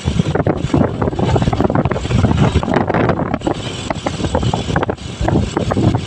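Strong wind gusting across the microphone outdoors near farmland, a loud continuous rumble and buffeting throughout with no speech.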